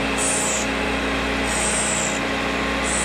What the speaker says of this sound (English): And once you have the drill ground, just turn it over slowly and let it spark out.